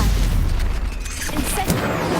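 The Incendio fire spell in Hogwarts Legacy on PS4 strikes with a heavy low boom and burst, followed by sharp crackling pops amid continuous combat rumble.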